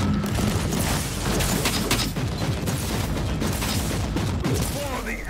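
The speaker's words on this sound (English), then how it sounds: "The Tarantula, as always, is quite useful to us when it's firing correctly, actually." Tarantula turret firing in Warhammer 40,000: Inquisitor - Martyr, a sustained barrage of rapid, loud shots and booming impacts over several seconds, with battle noise throughout.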